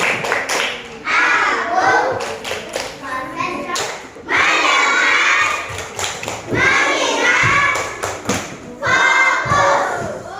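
Schoolchildren in a classroom doing the tepuk konsentrasi clapping game: chanted voices in short bursts punctuated by sharp unison claps and thumps, repeated several times.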